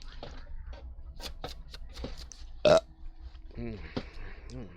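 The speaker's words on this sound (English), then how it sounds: "Belches." A single loud, close belch rises above nearby talk and game chatter, standing out sharply for a moment.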